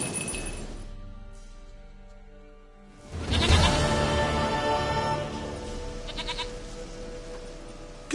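A goat in The Witcher 3 gives one drawn-out, close bleat, which then fades into quiet background ambience with scattered game sounds.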